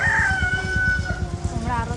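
A rooster crows once in a long, drawn-out call over a steady rhythmic thumping background, with a few clucks near the end, at a place with many roosters and ducks.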